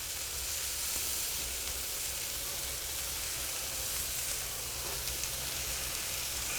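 Scallops sear in butter on a hot cast iron pan, giving a steady, close, fairly loud sizzle and hiss that holds unbroken throughout with no talking.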